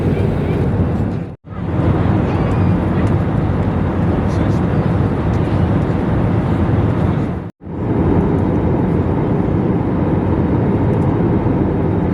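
Steady, loud cabin roar inside a Swiss Airbus A321neo during its approach from Zürich to Brussels, with a continuous broadband engine and airflow hum broken by two brief near-silent dropouts.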